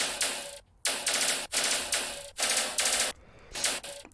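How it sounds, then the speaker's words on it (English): Frozen, time-stretched gunfire layered as a sound-design element in a heavy electronic music track, heard as dense buzzing bursts about half a second to a second long, separated by short gaps, loud and without talk. "This is some guns that are frozen down."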